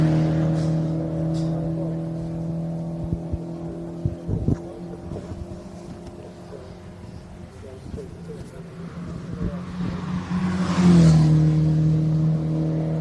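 Race cars at Cadwell Park during a GAZ Shocks 116 Trophy round give a steady engine drone beneath a commentator's continuous talk, with one car passing louder and closer near the end.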